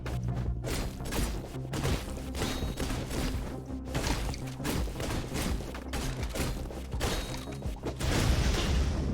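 Explosions and combat in the action platformer Katana Zero, a rapid barrage of booms, thuds and slashing whooshes over a pulsing beat, loud and relentless without pause.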